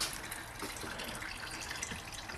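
Engine oil drains from a 2005 Honda CR-V with a 2.0 automatic engine, a steady watery trickle and patter into a container that runs evenly throughout at low level, with no talk.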